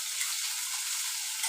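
Upma made from red rava and vermicelli sizzles in a pan with a soft, steady frying hiss, close and quiet, with no voices.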